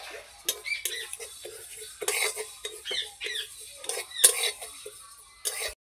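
Spoon scraping and tapping against a dry pan as sesame seeds are roasted and stirred, a busy run of close, bright scratches and clinks with brief pauses.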